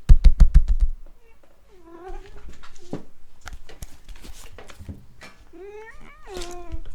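A cat meows inside a room, with a couple of drawn-out, rising calls in the middle and near the end, close to the microphone; a few loud thumps open the clip and a person speaks intermittently.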